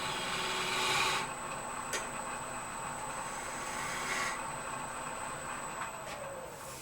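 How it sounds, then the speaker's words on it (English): A steady whirring wood lathe hums throughout as a shear scraper makes a straight plunge cut into spinning wood, with faint scraping texture and a couple of brief brighter rasps, no talking. "This is just a straight plunge cut."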